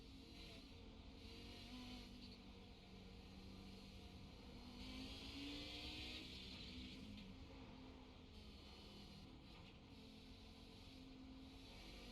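Audi 90 GTO race car engine in a racing video game at Lime Rock, a sustained droning in-car engine note with steady tone shifts, continuous and fairly even throughout.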